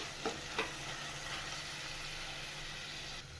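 Two finely chopped tomatoes fry with turmeric powder for mutton chukka, a soft, steady sizzle near the pan with two brief spatula scrapes early on and no talk.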